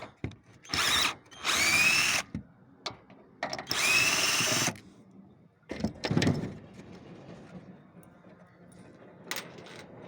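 A power tool unscrewing fasteners on solar panels, several short whirring bursts separated by pauses, with clunks and handling noises in between, close by.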